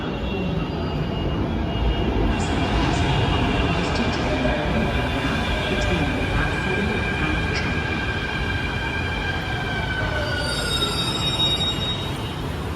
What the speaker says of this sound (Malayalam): ഇതാണ് നമ്മുടെ അംബാനിയുടെ മെട്രോ